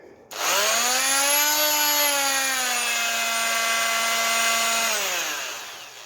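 Oscillating multi-tool running at about 1000 RPM against polycarbonate sheet for an aquarium cover, a loud steady whining buzz with strong tonal harmonics that holds for several seconds, then tapers off near the end.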